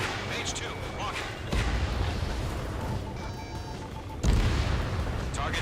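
A destroyed target explodes in the Ace Combat 7 flight game, sudden deep booming blasts breaking over a continuous jet-engine roar, with radio voices speaking over the action.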